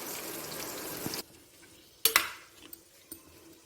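Sautéed banana stem is poured from a pan into a pot: a hiss of sizzling that cuts off, then a few sharp metallic clanks and scrapes of cookware, close and alone.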